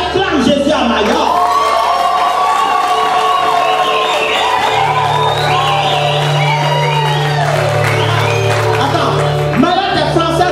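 Large church congregation in Mayotte cheering and acclaiming Jesus, a loud, sustained wash of shouts, whoops and raised voices filling the space without a break.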